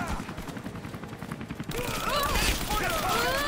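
Rapid gunfire in Rise of the Tomb Raider erupts in a loud sustained volley of overlapping shots, with shouting voices mixed in.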